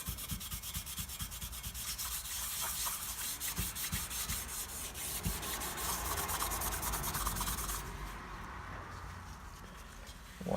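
Steady, close scratchy rubbing to smooth the gasket surface on a Buell XB12R motorcycle engine, continuing without pause in quick back-and-forth strokes and easing slightly toward the end.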